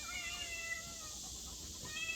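Hungry cats meow for food indoors, thin high cries repeating over a faint background hum, with no voices.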